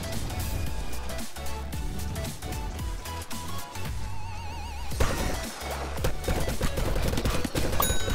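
Shooting in the video game Plants vs Zombies 2 3D comes as rapid volleys of game gunfire and impact crashes over game music, steady and busy across the whole stretch with no talking.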